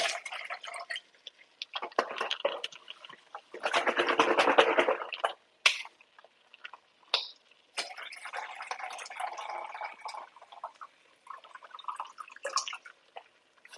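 Vegetable broth poured from a can into a pot for a veggie chili, giving splashing, dripping liquid bursts with a louder pour in the middle and short trickles after, fairly close and moderately quiet.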